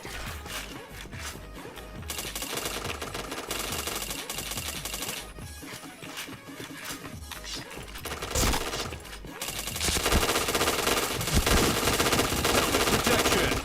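Rapid automatic gunfire in a video game, dense bursts of shots rattling almost continuously with brief pauses and a louder, fuller stretch near the end, mixed with game sounds.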